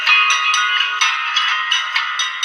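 Music plays through the small built-in speaker of an iKall K333 4G keypad phone, a thin, steady, tinny stream with a regular beat and no deep bass, heard alone.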